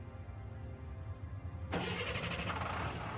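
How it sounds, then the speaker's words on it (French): A car engine cranks and catches at once, settling into a steady running rumble, close by, after a stretch of quiet background. "Le moteur a démarré."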